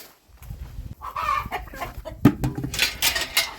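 Australorp chickens in a spring farmyard cluck and squawk nearby in irregular, overlapping bursts, some louder calls rising above the rest.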